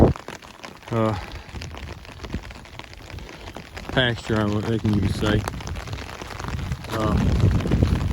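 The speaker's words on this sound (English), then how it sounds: "you can hear the rain hitting the umbrella, and it's raining pretty good" Steady rain patters on an umbrella held by a hiker walking through a field on the Appalachian Trail, a constant close hiss and tapping beneath intermittent talking.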